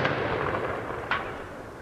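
A single SMAW shoulder-launched assault weapon shot on a Marine Corps firing range: one short, sharp boom rising over a steady background rush, then fading quickly.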